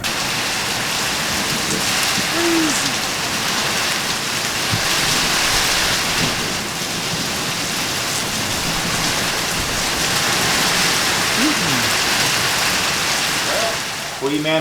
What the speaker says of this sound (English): It was really just a torrential downpour with some wind and lots of lightning.